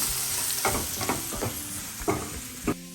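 Finely chopped onions, about half a cup, frying in a pan for a quick bread upma breakfast, giving a steady sizzle with several soft stirring scrapes spaced through it, close and moderately loud, with no talking.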